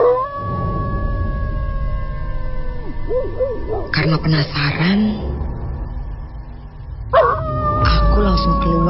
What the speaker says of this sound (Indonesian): langsung disusul dengan suara lolongan anjingku